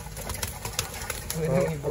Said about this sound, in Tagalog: Oh, mga kalapati sila, napakaganda oh